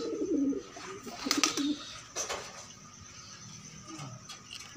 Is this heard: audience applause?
no